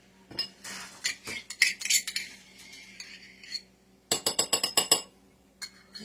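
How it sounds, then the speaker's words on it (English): A spoon clinks and scrapes against a bowl in quick bursts as mayonnaise is dumped onto egg yolks for Easter deviled eggs, with a few sharp metallic taps, close and clear, no talking. "Then you're going to need a 1/4 cup of mayonnaise, which we have here. So let's go ahead and dump that in there."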